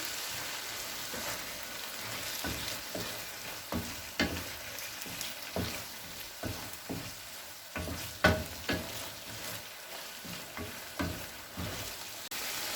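Chicken with crushed red chilli, black pepper and soy sauce frying in a pan, with a steady sizzle and repeated scraping stir strokes at an irregular rhythm, close and fairly quiet.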